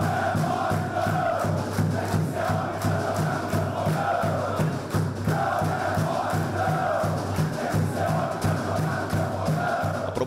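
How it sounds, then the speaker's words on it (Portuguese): Football supporters at the Santa Cruz stadium protest their club during a Botafogo match, a dense, continuous roar of crowd chanting and shouting that holds steady for the whole stretch. "Princípio de crise no Santa Cruz com direito a protesto da torcida."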